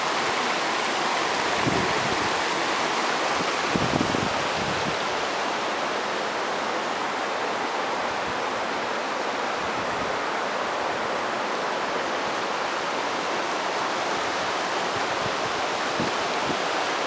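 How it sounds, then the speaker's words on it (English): A small waterfall near the Canadian border roars in a steady, dense rush of falling water on a July day, loud and unbroken throughout with no voices. "Kind of right here at a sort of a waterfall."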